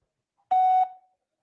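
A single short electronic phone tone, a steady mid-pitched beep lasting about a third of a second, clear and isolated in silence.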